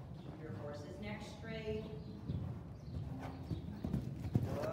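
Hooves clip-clop on arena footing as a horse canters during a riding lesson, a steady rhythmic beat under an instructor's voice, with a bird calling faintly in the background.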